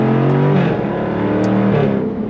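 A 2024 Jaguar F-Type R75 V8 revs with its exhaust valves closed, a steady, fairly muted engine drone that rises slightly and holds for about two seconds, close and without any voices.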